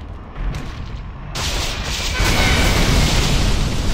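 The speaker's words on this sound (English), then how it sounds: "Breaking the sound barrier." Sonic boom of an Aurora jet in Command & Conquer Generals Zero Hour, a sudden broadband roar that swells and holds loud through the end, with no voices.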